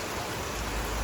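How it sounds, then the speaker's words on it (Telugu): Heavy rain pours down steadily as a dense, continuous wash of hiss across the whole short stretch, loud and close, with no voices over it. "డేంజర్ వర్షం పడుతుంది."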